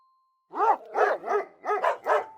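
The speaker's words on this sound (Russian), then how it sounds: "Да, это собачка" A dog barks five times in a quick, even series, loud and close, each bark a full open woof, after a thin steady tone.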